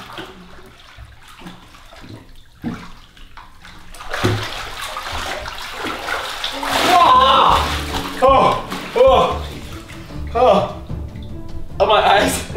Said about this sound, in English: I'm just gonna fully submerge because the only way to get used to cold water is to fully submerge in the cold